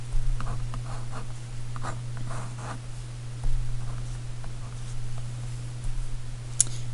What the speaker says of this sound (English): if I draw my three triangles